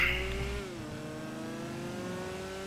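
A Bf Weevil compact car with performance upgrades accelerates hard in the BeamNG video game, its engine note climbing steadily in a smooth sustained whine after an initial loud burst, alone without talk.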